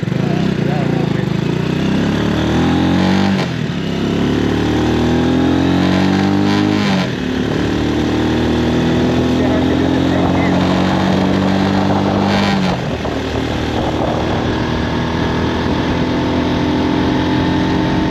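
Engine of an X-Pro X24 250cc street motorcycle running and revving, rising and falling in pitch with steady loud drone throughout, close by.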